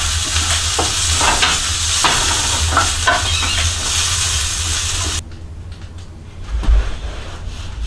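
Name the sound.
Johnsonville breakfast sausages and hash browns frying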